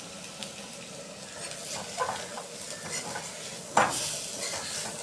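Yam fry with curry leaves and coriander is stirred in a pan, soft sizzling under a few scraping strokes of a spoon and one sharper clank near the end, close and without talk.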